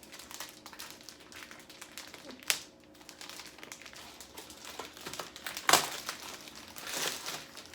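Plastic wrap for an Easter basket crinkles and crackles steadily at close range, with a couple of sharper crunches standing out, and no voices.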